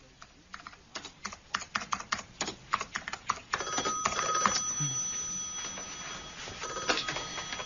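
An office telephone rings in a radio crime drama set in and around Oxford, its bell trilling over dense clattering typewriter-like keystrokes, fairly close, with no voices.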